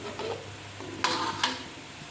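Pempek stirred in hot frying oil in a pan, a steady soft sizzle with a few sharper scraping clinks from the stirring, close and alone without voices.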